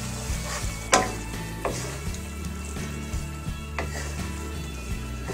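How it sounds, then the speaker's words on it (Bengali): Garlic pickle is stirred in a pan over low heat, a soft continuous sizzle broken by occasional sharp spoon knocks against the pan, close and steady with no voices. "আমি চুলার মধ্যে লো আঁচে এটাকে 5 মিনিট নেড়ে চেড়ে নিয়েছি"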